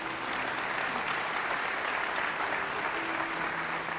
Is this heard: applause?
yes